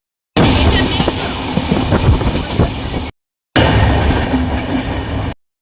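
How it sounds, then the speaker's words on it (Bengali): A passenger train bound for Jammu Tawi rumbles along with loud, steady clatter of wheels on rails, heard close in two sustained stretches separated by a brief break. "ট্রেন থেকে আমাদের গাড়ি এখন রওনা দিল জম্মু তাওয়াইয়ের উদ্দেশ্যে।"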